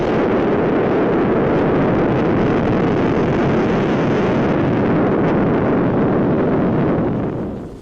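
A British atomic bomb set off aboard a frigate, recorded in archival footage: a sustained, loud roaring rumble that fills the whole clip with broadband noise and wind-like buffeting, tapering off only at the very end.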